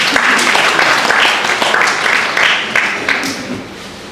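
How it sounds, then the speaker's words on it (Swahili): A crowd at a Swahili church conference applauds steadily, the dense clapping close and sustained for about four seconds before easing slightly at the end, with faint voices mixed in. "Tumpigie makofi tu kwanza"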